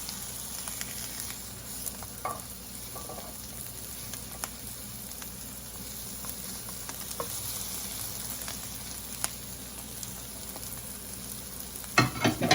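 Egg foo yong pancakes fry in a pan with a steady soft sizzle and scattered pops and crackles, swelling into louder spattering near the end.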